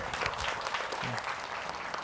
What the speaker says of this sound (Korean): 우리 이주호 장관님 다시 한번 박수 한번 치죠